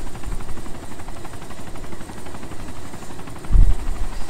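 A helicopter flies in the video game DayZ Epoch on Chernarus, a steady close rotor and engine drone that continues throughout, with a brief deeper thump toward the end.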